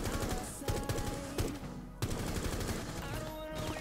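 Rapid gunfire crackles in Rainbow Six Siege, several sharp bursts of automatic shots with short gaps between them, set against busy game background noise.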